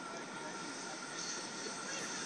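Sydney train arriving at a station platform, a broad, continuous rushing roar with a high-pitched squeal over it, close and steady for a couple of seconds.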